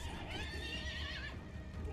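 The Pegasus horse in a Treyarch zombies video game gives a loud, wavering neigh lasting about two seconds over a low rumbling game background.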